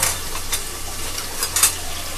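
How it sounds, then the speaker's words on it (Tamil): Onions sautéing in a pan for a Tamil-style kuzhambu side dish, giving a steady soft sizzle with a few brief louder bursts as they are stirred, close and alone. "நம்ம வெங்காயத்தை வதக்கிடணும்."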